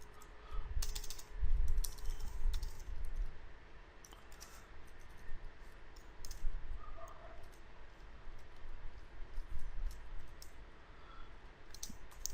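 Fast, uneven keystrokes on a computer keyboard as code is typed, soft close clicks in bursts over a low room hum, no voices.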